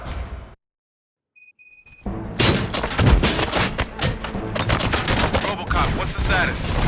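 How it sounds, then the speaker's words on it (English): Dense, loud gunfire in Robocop: Rogue City on PlayStation 5 erupts after a brief silence and rattles on continuously as rapid overlapping shots. "Gunshots? What's going on?"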